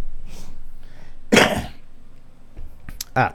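A single sharp sneeze bursts out near the middle, surrounded by soft breathing and a few small throat and mouth noises.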